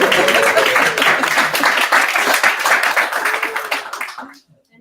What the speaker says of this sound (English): And applause to Vivi, the technician.